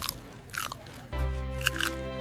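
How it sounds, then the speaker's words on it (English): A big crunchy bite into chicken from a takeout box, followed by loud close-up crunching and chewing that continues steadily with a brief sharp crackle. "I am taking a big bite of my chicken."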